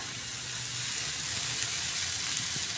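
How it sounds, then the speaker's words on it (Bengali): Cauliflower and potatoes frying in a pan for a breakfast fry, giving a steady, even sizzle throughout with no talk. "এখানে আমি বানাচ্ছি হচ্ছে ফুলকপি আলু ভাজা"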